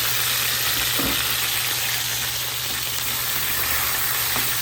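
Onion and garlic sautéing in a pan with soy sauce for a pancit miki noodle dish, giving a dense, continuous close-up sizzle with occasional faint stirring knocks and no voices.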